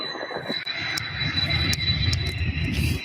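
Airliner departing from SDF airport, a steady distant jet engine roar with a faint high whine, no speech heard.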